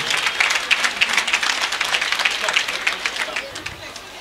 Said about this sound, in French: Tous vos applaudissements.